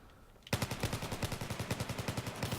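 Automatic weapon fire in Battlefield 4 breaks out suddenly after a quiet moment, then continues as a rapid, evenly spaced burst of loud shots lasting a couple of seconds.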